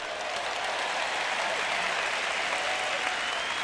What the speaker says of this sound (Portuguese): Bom, eu tenho 3 pessoas batendo palmas para isso.